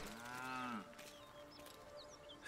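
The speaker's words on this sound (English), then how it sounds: "I noticed that there's a cow just back in the back." A cow in the video game Baldur's Gate 3 gives one drawn-out low moo, then falls quiet under faint ambient game sounds and a few soft chirps.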